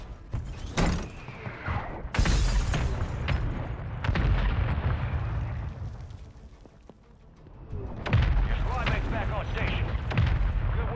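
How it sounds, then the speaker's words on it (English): Mortar strike explosions in the video game Call of Duty land as several deep, heavy booms with rumbling tails, some close and loud, separated by a brief quieter lull. "Hostile mortar strike near your position."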